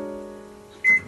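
A microwave oven running to soften fat, giving a steady low electrical hum close by, followed by a sharp high beep near the end.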